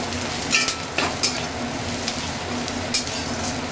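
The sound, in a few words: cumin, turmeric and coriander frying in a kadai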